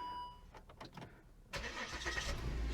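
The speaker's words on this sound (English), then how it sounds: "The next step is going to be start the car" A 2013 Volvo XC60 engine cranks with a few quick starter pulses, then catches and settles into a steady, fairly loud idle close by.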